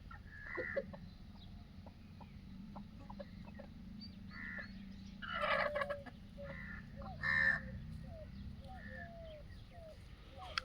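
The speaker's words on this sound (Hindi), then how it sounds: "तो ये स्क्रीन में दिख रही है प्योर देसी मुर्गी है" Desi chickens cluck and squawk at close range in short bursts, with a few louder calls among softer clucking over a low background hum.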